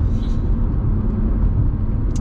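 A 2017 Dacia Sandero Stepway 0.9 TCe 90 with manual gearbox accelerating, heard from inside as a steady, loud low engine rumble with road noise, holding an even drone throughout.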